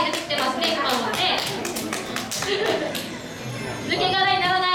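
A crowd claps in quick, uneven bursts at a Kumamon mascot stage event, the patter steady and moderately close while a host keeps chattering over it.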